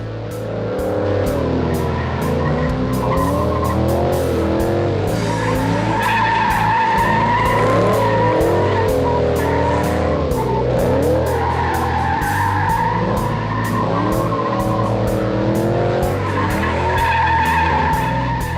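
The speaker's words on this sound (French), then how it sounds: "C'est donc parti avec ces fameux donuts autour des quilles." A car drifting donuts around cones on the Albi circuit, its engine revving hard and tires squealing and skidding continuously, loud and close throughout with no talking.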